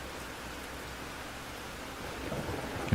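Steady rain hisses across the whole stretch in the train-driving game Derail Valley, with a low rumble of thunder swelling toward the end; no one speaks.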